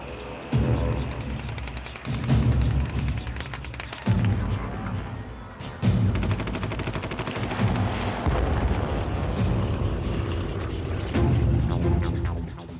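Fighter-bomber attack on a WWII desert column in a narrow mountain pass: dense bursts of machine-gun fire and heavy booms, loud and sustained, pausing briefly every couple of seconds.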